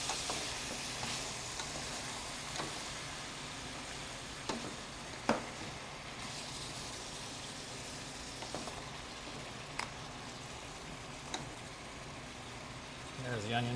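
Onions and vegetables for ratatouille sizzle in a small skillet, a soft, steady frying hiss with occasional faint clicks of stirring, fairly quiet throughout.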